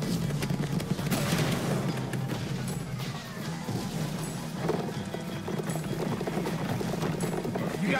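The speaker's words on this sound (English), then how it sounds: "Fireworks!" Fireworks launching in the Minecraft Story Mode game, a rapid crackling series of pops and bursts that runs through the whole scene, with a busy loud background layered underneath.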